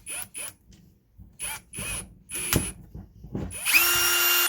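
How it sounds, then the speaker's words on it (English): A power drill whirs in short on-off bursts as its bit spins through a drill guide while boring holes for stainless cable deck railing, ending in a longer sustained run; close and fairly loud, no talk. "Looks like the drill bit is spinning straight."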